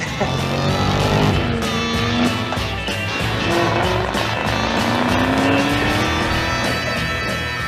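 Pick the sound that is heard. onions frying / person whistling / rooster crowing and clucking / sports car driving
sports car driving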